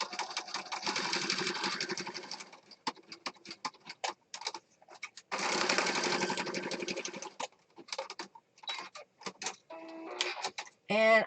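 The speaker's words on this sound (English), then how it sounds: "I'm going to sew around this corner" A domestic sewing machine stitches around the corner of a mixed media piece in bursts, starting and stopping between long runs, with short clicks and a voice speaking near the end.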